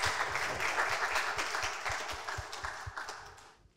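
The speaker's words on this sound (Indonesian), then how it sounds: "Silakan beri tepuk tangan sekali lagi untuk Kak Robi Ferdiansyah." Audience applause at a talent show, a dense, loud burst of clapping close by that holds steady and then thins and fades away toward the end.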